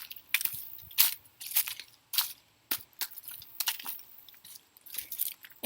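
Footsteps crunching through fallen leaves on an arboretum trail, a steady walking rhythm of crisp, close rustling crunches with no talking.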